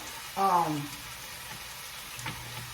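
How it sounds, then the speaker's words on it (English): Okra sautés in a pan in a home kitchen, giving a steady, soft sizzle that runs throughout while a voice speaks briefly over it. "But I do saute my okra as well, and it stops it from being so slimy."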